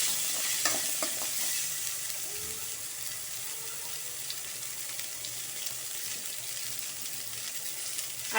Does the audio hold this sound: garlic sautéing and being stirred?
yes